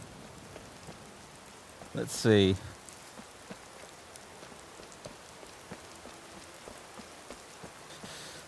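Steady light rain patters in Skyrim Special Edition as a soft continuous hiss, briefly interrupted by a short spoken phrase and a louder tonal chime-like burst partway through.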